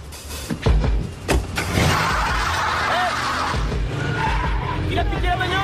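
Car speeding off with loud tire skids and squeals, an engine roaring close by after a few sharp impacts, with voices shouting over it.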